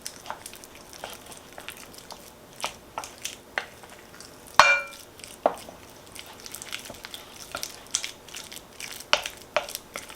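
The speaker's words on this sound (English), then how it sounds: "gradually add in the avocado. And you want to mix it in to the cream cheese" Spoon working avocado into cream cheese for a dip, with soft, intermittent squishing, scraping and tapping strokes against the bowl at close range and moderate volume, a sharper clack midway.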